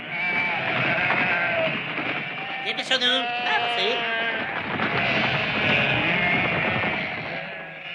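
Many sheep bleat over one another in a noisy flock, close and continuous, while a person calls out to them.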